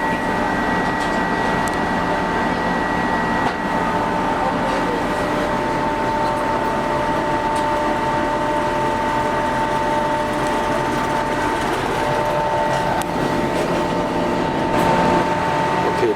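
An SJ 2000 (X2) high-speed tilting train stands at København H waiting to depart, giving a steady, even hum of onboard ventilation and machinery with faint tonal whines, close and constant throughout, with no clear speech.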